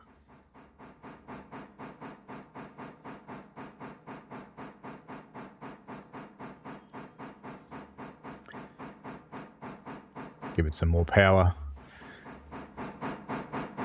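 A steam locomotive in the video game Railroader works uphill, its exhaust chuffing in a steady, rapid rhythm with a short loud burst of steam partway through and someone speaking briefly over it.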